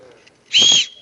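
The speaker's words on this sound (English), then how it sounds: "When I blow the whistle, go." One short, shrill whistle blast signals the start of a game in a school gym class with no goalies; loud and close, lasting about a third of a second after a quiet moment.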